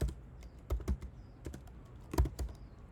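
Bursts of typing on a computer keyboard while coding in the IntelliJ editor, with irregular clusters of key clicks and a few louder strokes, close and alone without speech.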